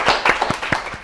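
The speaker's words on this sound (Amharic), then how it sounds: "አጨብጭቡላችሁ እስቲ አንዴ" A short burst of hand clapping for two contestants at a children's television quiz show, about half a dozen close, even claps within roughly a second.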